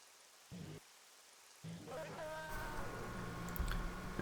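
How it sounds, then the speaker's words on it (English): Rain falling during a wet Formula 1 race at the Russian Grand Prix in a racing video game, a steady hiss of drops that swells after a quiet start and runs over low engine drone and brief clicks. "And it's raining."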